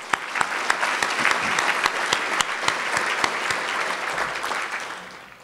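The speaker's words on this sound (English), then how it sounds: "Let's give that team a round of applause" An audience at a county's annual state-of-the-county address gives a team a round of applause, steady dense clapping with a few sharper claps standing out, tapering off near the end.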